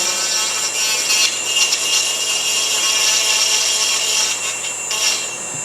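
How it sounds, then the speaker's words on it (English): A power sanding drum beveling the edges of a workpiece, a continuous close abrasive grinding rasp with slight rhythmic surges, no talk. "sometimes I use the sanding drums to bevel the edges"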